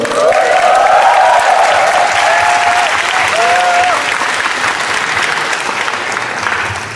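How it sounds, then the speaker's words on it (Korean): A concert audience in Daejeon applauds at a show, a loud and sustained sweep of clapping from a crowd with a few whistles and cheers early on, easing slightly toward the end. "박수."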